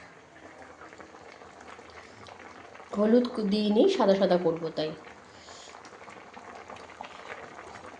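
Vegetables for shukto simmer and bubble in a pot with a steady, soft gurgling texture throughout, while a voice speaks briefly over it in the middle.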